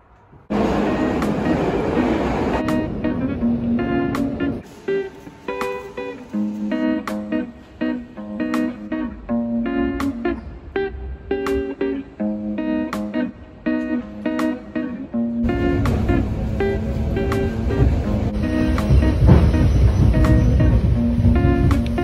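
Suburban electric commuter train ride on a hot summer day, a steady loud rolling rumble with rhythmic clacks of wheels over rail joints, the noise swelling louder toward the end.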